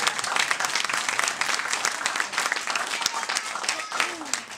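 Wedding reception guests give a hearty round of applause after a speech, many hands clapping loudly and close by in a dense, lively patter, with a voice briefly audible near the end.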